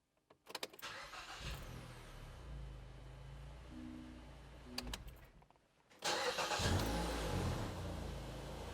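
A 2010 Mazda 3 engine with a newly replaced starter cranks with brief stuttering bursts, then catches and roars to life, settling into a loud, steady running rumble nearby.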